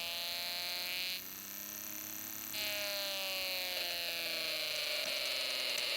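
A Snap Circuits Extreme SC-750 speaker emits a loud, steady electronic buzz whose tone shifts in pitch and texture as an adjustable resistor lever is slowly moved, with a sudden change partway through.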